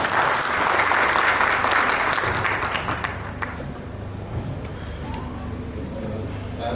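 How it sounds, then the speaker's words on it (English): Audience applause at a business entrepreneurship conclave fills the room loudly for about three seconds, then thins to scattered claps and murmuring crowd noise. "Can we please clap,"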